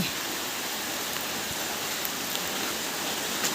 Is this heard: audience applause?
no